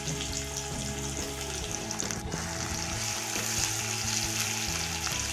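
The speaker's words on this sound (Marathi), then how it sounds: "कांद्याला चांगला लालसर रंग येईपर्यंत आपल्याला भाजायचं आहे." Chopped onion fries in hot oil with mustard seeds and curry leaves, a continuous close sizzle and crackle over a low steady hum, with no speech.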